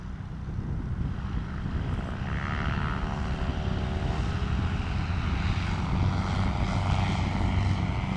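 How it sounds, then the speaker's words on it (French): A light propeller plane's engine roars steadily at full throttle at Albi airport, a loud, continuous drone with a deep rumbling throb throughout. "dès qu'il met plein gaz, vous allez l'entendre, parce qu'il a un moteur puissant"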